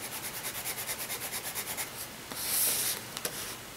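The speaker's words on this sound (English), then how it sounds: "I turn my pencil to the side, and that way I get a nice even coating" Pencil lead dragged sideways across paper for even shading gives a close, soft, rhythmic rubbing of repeated strokes, then a longer scratchy pass and a few light taps, with no talking.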